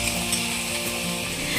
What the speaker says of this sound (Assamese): এইখিনি অকণমান টাইম এনেদৰে ভাজি ল'ম